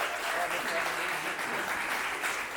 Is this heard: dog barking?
no